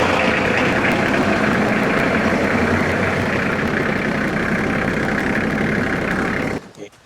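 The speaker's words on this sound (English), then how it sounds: "let's pull the tractor out." A tractor engine runs steadily close by for about six and a half seconds, a broad continuous drone that cuts off abruptly near the end, with no talk over it.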